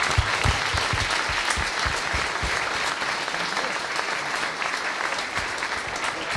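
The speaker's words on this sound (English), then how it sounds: "let's give a round of applause for David" Audience applause follows a fireside chat at a tech meetup, a dense steady clatter of many hands clapping throughout, fairly loud and close, with a few sharper individual claps standing out early on.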